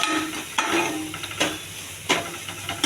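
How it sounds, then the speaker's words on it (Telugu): Mint chutney ingredients sauté in a pan with a continuous frying hiss, punctuated by several sharp scrapes and knocks as a spatula stirs them. "ఇది పచ్చివాసన పోయేంత వరకు వేగించుకోవాలండి"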